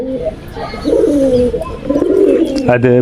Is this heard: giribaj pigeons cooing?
yes